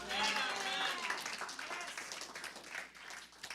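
A church congregation at Église La Mission applauds and acclaims during a sermon, a steady wash of clapping and cheering running beneath a prominent voice.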